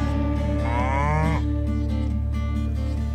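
Cows moo on a film set, one drawn-out low bellow rising and falling over a steady hum of background machinery, with no other sounds heard.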